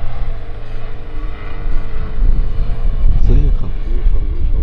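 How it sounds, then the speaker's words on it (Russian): A Lada Niva's failing engine drones low and labored, straining continuously off-road, rising and wavering in pitch, heard up close with some voice-like sounds mixed in. "Вот Нива, она прям помирает. Двигатель по звуку чувствуется"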